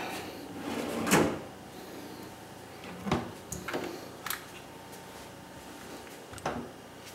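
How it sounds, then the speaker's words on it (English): Soft-close drawers and cabinets in a new kitchen slide shut several times. Each close ends in a muted thump or click, with irregular gaps between them and quiet room noise in the background. "And soft close drawers and cabinets."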